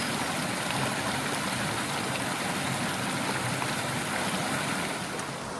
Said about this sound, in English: that's not really a waterfall. I mean, cascade, whatever.